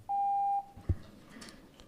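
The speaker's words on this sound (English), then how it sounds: "Whatever beeping is happening over there, can you please make sure that it stops now?" Beeping in a city council meeting room: a single sustained electronic beep lasting about half a second, followed by a short low thump and faint room noise.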